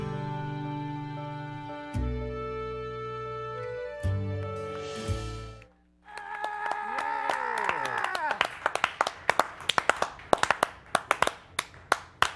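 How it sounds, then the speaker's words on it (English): Sparse, uneven hand claps join in after a stretch of music, scattered and irregular at first, then growing into a ragged burst of applause. "Awkward clap."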